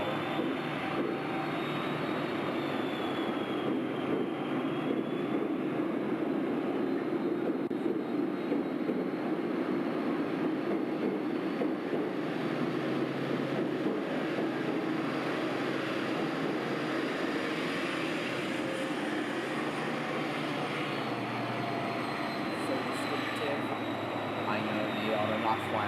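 An Intercity 125 HST diesel train engine throttles up into a loud, steady roar that sounds much like a jet engine. The broad, continuous rumble holds for nearly half a minute.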